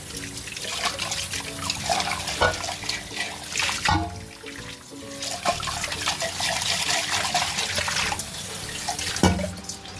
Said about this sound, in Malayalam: നമുക്കിതൊന്ന് കഴുകിയെടുക്കാം ഈ പാത്രം